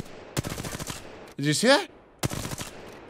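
Bursts of rapid video game gunfire, fired by widening the eyes in a face-controlled game, come in two clusters. A voice speaks briefly between them.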